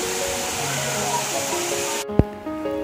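Water pouring at the Botalda waterfall in Kharsia, a continuous rushing roar heard close, with faint tonal background sounds and a sharp thump near the end.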